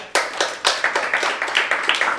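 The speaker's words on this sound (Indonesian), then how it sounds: "Tepuk tangan dulu." Steady rhythmic hand clapping, a few people clapping together at close range with sharp repeated claps and no talking.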